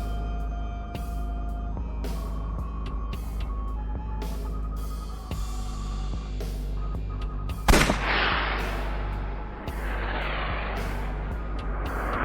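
A revolver fires once, a sharp loud crack, at a TV in the video game AI: The Somnium Files, ringing out over a steady droning background score with no talking.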